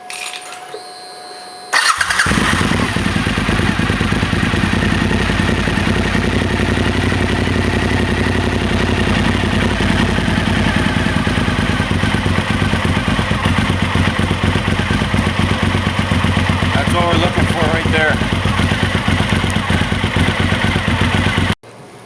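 A Suzuki SV1000S motorcycle's engine cranks and fires after a brief quiet moment, then settles into a loud, steady, close idle with a rhythmic throb that runs for about twenty seconds before cutting off.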